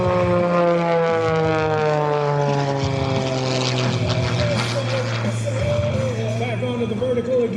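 An aerobatic propeller aircraft flying at the 2024 Westmoreland County Airshow drones loudly with a steady engine and propeller tone whose pitch slowly shifts through its manoeuvres, continuous from start to end.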